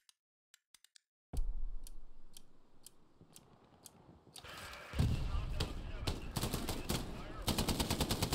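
Gunfire in the World War II shooter Hell Let Loose: scattered sharp shots, then sustained rapid bursts growing louder and denser, crackling close under ambient battlefield noise.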